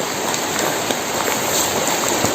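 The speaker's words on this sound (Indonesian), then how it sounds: "soalnya ini kan hujan ya" Steady rain pours down outdoors as a dense, even hiss of drops, close and constant with no voices over it.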